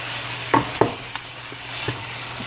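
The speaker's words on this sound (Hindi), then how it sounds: "ये देखें अब मैं इसकी भुनाई कर रही हूँ" Tomato, garlic-ginger paste and dry spices stir-roasted in a pan for palak chicken, with a steady low sizzle broken by a few sharp scrapes of a spoon against the pan, close and moderately loud, no talking.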